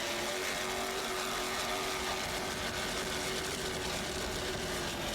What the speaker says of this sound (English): Just listen to those two 700-horsepower Chevy engines.